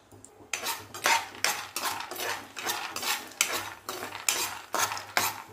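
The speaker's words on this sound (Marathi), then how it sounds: "हे बघा, अशा पद्धतीनं असा मस्त आवाज येतो शेंगदाणे भाजले की।" Raw peanuts dry-roasting with a little oil in a kadhai, a rhythmic scraping and rattling as a spoon stirs them, repeated close strokes with a soft sizzle and no talking.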